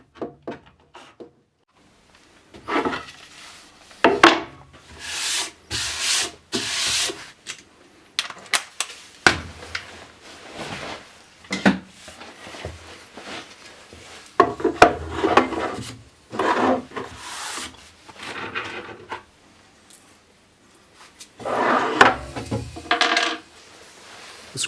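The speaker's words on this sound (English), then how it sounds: "It drills a perfect hole with zero tear out in the plywood." A Festool LR32 router bit drilling 5mm holes into plywood cabinet panels, heard as bursts of rasping, grinding cutting noise separated by brief pauses and knocks, loud and close with no talk.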